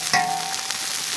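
Chopped chili paste stir-frying in a hot wok with a steady, dense sizzle close up, with a brief clink of a utensil near the start.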